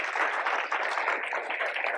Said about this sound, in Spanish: si puede darle un aplauso